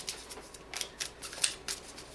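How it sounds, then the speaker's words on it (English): Angel cards are shuffled by hand in a series of quick, crisp riffling flicks close up, roughly evenly spaced and fairly soft, with no talking. "I'm just shuffling some angel cards here."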